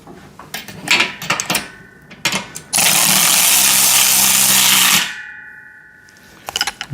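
Power driver tightening bolts on a home gym pec deck and rear delt machine: a sustained loud whir of about two seconds between short clanks and taps of metal parts being handled, with no talk.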